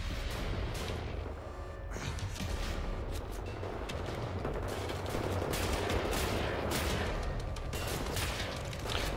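Weapon fire in Wolfenstein The New Order, a dense, sustained barrage of gunshots with booming impacts running steadily for the full stretch, loud and close throughout.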